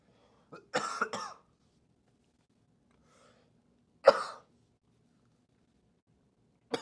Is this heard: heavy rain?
no